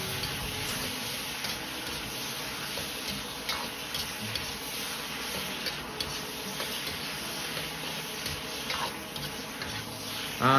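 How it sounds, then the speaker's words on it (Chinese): Potato slices stir-fried with softened tomatoes in a wok, giving a steady, close crackling sizzle with small tapping scrapes of the spatula throughout, and no voices. "接着倒入土豆片翻炒"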